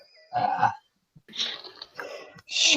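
A person lets out a few throaty burps in quick succession, close and fairly loud, broken by short pauses with no talk over them.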